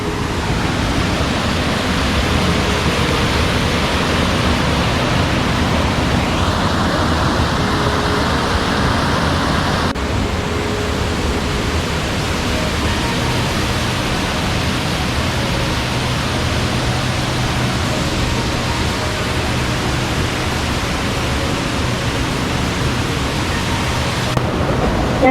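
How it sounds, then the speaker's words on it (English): Diyaluma waterfall in Sri Lanka roars up close as a loud, steady, unbroken rush of falling water that fills the whole scene, with no voices over it. "Now I am just next to the waterfall,"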